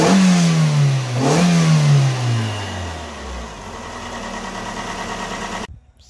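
A Toyota AE101 Corolla GT engine revs and then settles into a rough idle, its pitch dropping, with a persistent rattling whir from a noisy VVT pulley running underneath before it cuts off.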